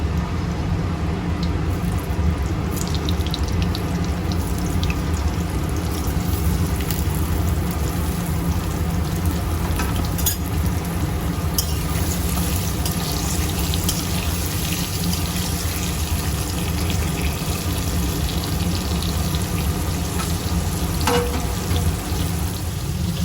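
Pointed gourd frying in hot oil with turmeric sizzles loud and steady for over twenty seconds, a dense close hiss with occasional faint clinks and stirring scrapes.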